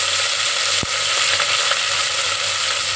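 Mint leaves dropped into hot oil while cooking guthi vankaya bagara rice, producing a steady, close hiss of sizzling frying with one brief click near the start.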